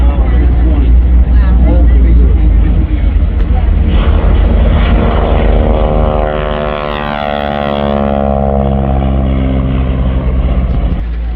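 A P-51 Mustang's piston propeller engine roars loud and close at a WW2 airshow in Reading, Pennsylvania, its drone shifting in pitch as the plane passes, with people talking nearby.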